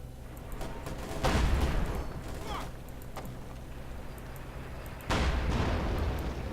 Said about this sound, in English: Mortar coming down, but that's not going to be enough to force those conscripts off